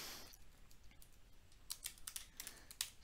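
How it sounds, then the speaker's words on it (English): Quick bursts of keystrokes on a computer keyboard while entering a Docker build command, close and crisp, speeding into a clustered run of taps toward the end with no talking. "after typing the name of my image, I'll just give one space and type dot"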